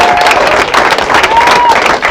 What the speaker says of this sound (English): we should do one more round of applause.